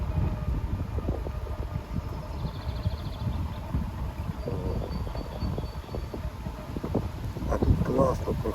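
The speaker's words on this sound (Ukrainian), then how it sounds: "Вітер такий дує, ух." Gusty wind roars and rumbles steadily against the microphone in a park, a low, continuous outdoor whoosh with slight swells.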